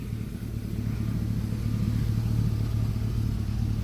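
A truck engine idling after a reduced-engine-power fault was fixed, a steady low rumble with an even throbbing pulse, close and continuous without speech.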